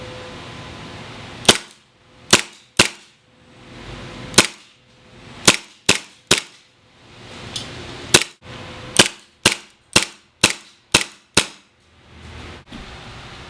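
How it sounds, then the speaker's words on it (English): WE 1911 gas-powered airsoft pistol firing BBs, a string of sharp, loud, close snapping shots, some in quick pairs and others spaced apart, with no talk over them. "show you guys what the gun looks like shooting"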